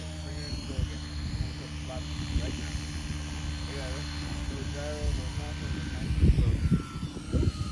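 A Nexa P-47 radio-controlled model plane's engine buzzes steadily with a wavering whine, rising and falling as it passes, while people talk over it.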